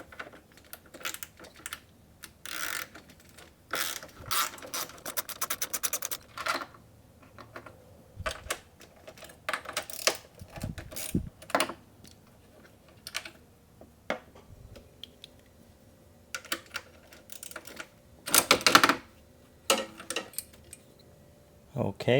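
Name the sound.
10 mm ratchet removing NSX radiator fan bolts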